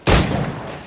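A single loud, close gunshot fired at iguanas in Assassin's Creed 4 Black Flag cracks sharply and decays into a rumbling tail, with no voices.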